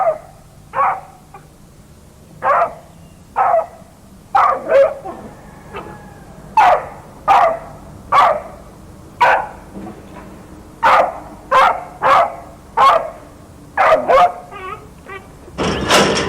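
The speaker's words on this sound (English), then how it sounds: "Provoked and unprovoked aggression typify the rabid dog." A rabid dog barks aggressively in short, sharp bursts, roughly a dozen loud, close barks spaced irregularly over a quiet background, ending in a harsher, louder outburst.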